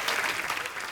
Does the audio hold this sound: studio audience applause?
yes